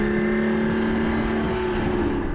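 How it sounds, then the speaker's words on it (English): A Porsche Cayman S 981 on its base exhaust system holds a steady engine drone with even harmonic tones, loud and close throughout the short stretch. "this base exhaust system just doesn't do this car justice at all"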